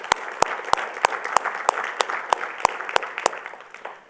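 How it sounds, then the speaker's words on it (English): An audience applauds at a leadership forum, a steady wash of clapping with one nearby pair of hands striking sharp, evenly spaced claps before fading out. "Let's give them a round of applause."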